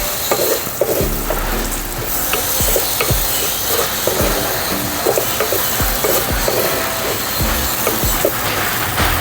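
A medium chopped potato fries with onion in hot tempering over a chulha wood stove, a loud, close, continuous sizzle broken by repeated scraping stirs and knocks of the spoon against the pan.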